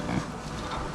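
Young pigs grunting in an open pasture, a short low grunt standing out near the start over a steady outdoor background.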